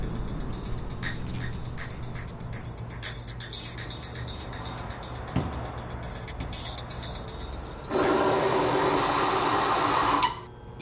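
A Force One torque tester runs a bearing pressure test with Lucas oil, making a steady mechanical whir with rapid ticking. It then jumps to a louder, harsher grinding for a couple of seconds before cutting off abruptly.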